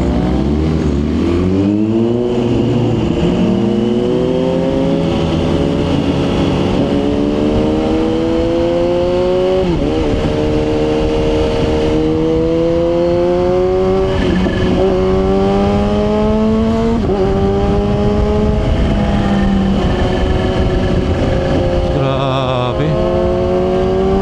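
CF Moto 500 SR motorcycle engine on a ride, revving up through the gears with rising pitch, short dips at each shift, and steady wind rush throughout; loud and continuous, no talking.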